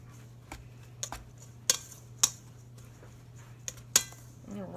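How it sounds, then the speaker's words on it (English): Shredded cheese tossed into flour in a mixing bowl, giving a few sparse, sharp clinks and taps of a utensil against the bowl over a low steady hum. "Let's mix this in."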